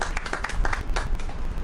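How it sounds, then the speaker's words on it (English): An audience in East Grand Bahama applauds the Deputy Prime Minister, a moderate, uneven patter of hand claps with a few sharper individual claps standing out, steady and fairly close. "You can give him a round of applause for being here today."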